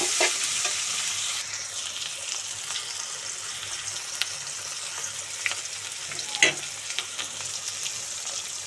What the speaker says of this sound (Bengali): তেল গরম হয়ে গেছে, এবার আমি পেঁয়াজ দিয়ে দেবো লাল শাক ভাজি করার জন্য